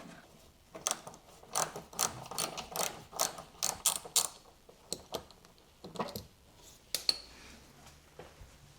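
A hand ratchet clicks in quick bursts while backing a screw out of a Honda Pilot fender, sharp metallic ticks in uneven clusters with short pauses, close and fairly quiet.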